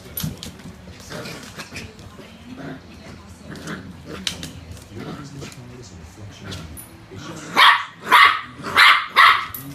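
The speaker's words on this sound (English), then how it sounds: "That's one cheeky little puppy." A cheeky little puppy named Walter barks in a string of loud, close yaps near the end, after a stretch of softer whimpers and grumbles mixed with talking.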